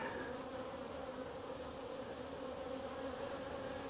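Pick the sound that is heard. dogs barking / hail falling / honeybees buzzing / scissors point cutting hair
honeybees buzzing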